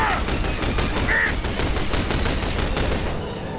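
Dense, rapid gunfire from The Bureau video game pours at a dropship, a loud continuous volley of overlapping shots with a short electronic whine near the start.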